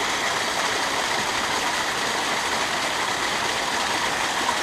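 Waterfall on the Appalachian Trail in Virginia, a steady, broadband rushing roar of falling water with no pauses or voices.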